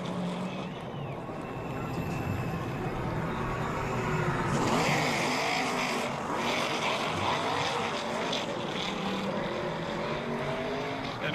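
An 18-year-old driver's ARCA stock car crosses the start-finish line at Daytona to win the Lucas Oil 200, its engine a loud, continuous roar that swells as it passes over steady crowd and track noise.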